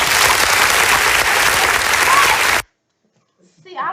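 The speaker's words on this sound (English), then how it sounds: "Let the clap slow down a little bit." A studio audience claps loudly in dense, sustained applause that cuts off abruptly, leaving near silence before a voice begins speaking.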